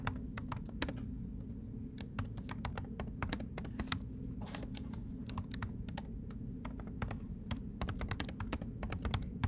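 Code goes into a computer keyboard as rapid, irregular keystrokes, close and clear over a low steady hum, with occasional quick bursts of clicks.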